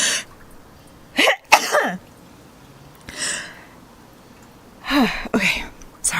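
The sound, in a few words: sneeze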